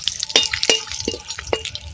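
Whole spices (bay leaf, cardamom, clove, cinnamon and cumin) fry in hot oil, giving sharp, irregular crackles and pops over a soft, close sizzle.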